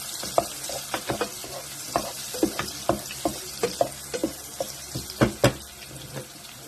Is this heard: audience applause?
no